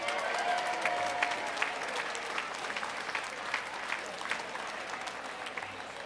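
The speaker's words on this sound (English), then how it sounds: "Look around and give your neighbor a round of applause." Guests at an Italian heritage reception give sustained applause, a dense patter of many clapping hands at a moderate, fairly steady level with a few sharper claps standing out.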